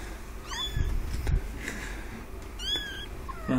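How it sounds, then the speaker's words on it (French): A kitten meows twice, thin rising-falling cries a couple of seconds apart, fairly faint over indoor background noise. "Tu sais pourquoi il miaule, là?"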